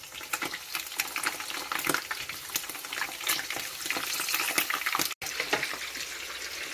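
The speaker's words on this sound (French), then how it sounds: "Je vais frire les crevettes." Shrimp fry in a pan with a continuous, fairly soft crackling sizzle that holds steady throughout, broken only by one brief drop-out near the end.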